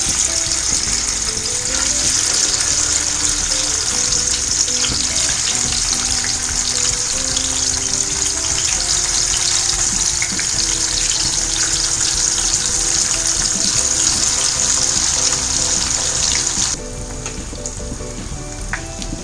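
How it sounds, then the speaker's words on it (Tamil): Fish frying in oil in a pan on a low flame makes a loud, continuous close sizzle and crackle that runs without a break and drops slightly near the end, with no talking. "இப்போ மீனை நம்ம ஃப்ரை பண்ணிக்கலாம்."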